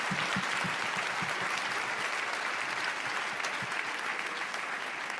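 A conference audience claps steadily for conference speakers, a dense, even wash of many hands sustained for over five seconds, with a few louder nearby claps near the start.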